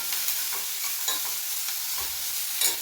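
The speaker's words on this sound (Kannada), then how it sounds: "ಅರ್ಧ ಅರ್ಧ ಫ್ರೈ ಮಾಡ್ಕೊಂಡ್ರೆ ಸಾಕು ನೋಡಿ" Dried fenugreek leaves (kasuri methi) frying in a pan at home, giving a steady soft sizzle with a few light stirring scrapes throughout, moderately close and without talk.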